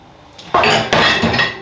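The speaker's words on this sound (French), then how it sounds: "J'ai une montagne de vaisselle." Dishes and cutlery clink and clatter during washing up of a big pile of dishes at a kitchen sink, a few sharp close knocks of crockery and metal in quick succession, with no talking.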